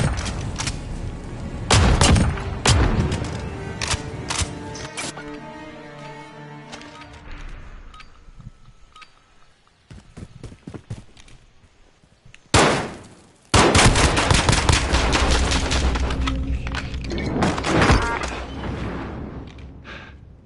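Gunfire from a shooting video game comes in rapid bursts and single shots, loud and clipped. A pause follows, then a dense volley of fire.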